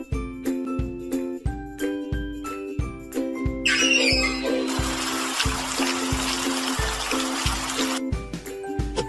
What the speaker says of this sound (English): Now fill the can with water.